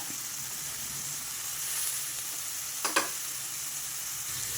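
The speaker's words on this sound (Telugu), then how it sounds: "మీరు ఈ వంకాయలు ఇట్లా పోపులోనే వేసేసుకోవాలి" Brinjal pieces drop into hot tempering oil for a chicken brinjal curry, giving a steady close sizzle with a sharper burst of crackle near the end, no voices.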